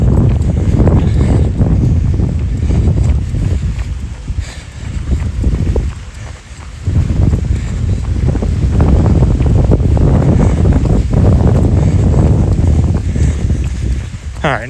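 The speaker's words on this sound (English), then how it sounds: "a little windy" Wind gusting outdoors along trails at a Disney resort, buffeting the microphone with loud low rumbling that dips briefly midway, while a person talks over it.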